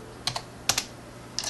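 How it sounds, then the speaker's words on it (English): A handful of crisp computer keyboard keystrokes come in three small bursts, two or three taps each, as a password is typed. They sound close and alone over a quiet room hiss. "Okay, so I gotta put in my password."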